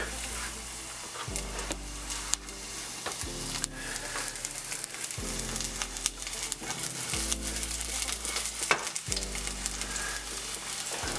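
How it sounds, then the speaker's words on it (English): Garlic fries in oil heated in a pot, a continuous close hiss of sizzling running under a rhythmic, thumping low backing track. "let it heat up a little bit, and I'll add some garlic"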